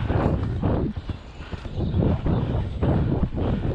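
Horse hooves clip-clop steadily on the ground during a cross-country training ride at Heino, with a rhythmic beat of close, firm footfalls under gusting wind noise.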